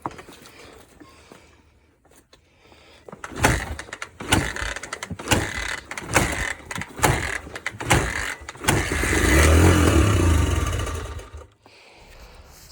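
A motorcycle being kick-started after its cleaned carburetor is refilled with gas and the spark plug reinstalled: several sharp mechanical kick strokes, then the engine briefly catches and runs with a loud sustained rumble before cutting out.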